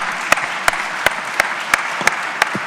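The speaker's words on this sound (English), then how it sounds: "Ladies and gentlemen, a round of applause," A conference panel's audience applauds, with a run of distinct, evenly spaced claps standing out over a softer bed of clapping, fairly close and without voices.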